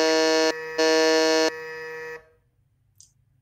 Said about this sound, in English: first one on the buzzer